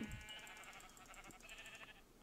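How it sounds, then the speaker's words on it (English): A sheep bleats in a video game after the player attacks it, a short wavering cry over a steady layer of game ambience and music, with no talk. "I'm now gonna kill this sheep for you."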